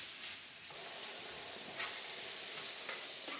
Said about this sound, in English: So I'll continue to fry until it changes from red to brown or well cooked